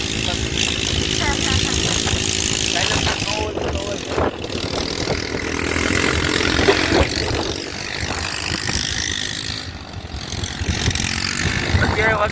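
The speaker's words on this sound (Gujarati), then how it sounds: "જોઈ શકો છો આ બાઇકમાં કેટલો અવાજ કરે છે." A motorbike engine drones loud and steady on Madhavpur beach, a continuous rough roar mixed with wind buffeting, as a voice talks over it throughout.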